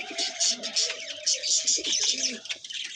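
A male highflyer pigeon coos softly and repeatedly nearby, its low throaty calls overlapping with faint chirps in the background.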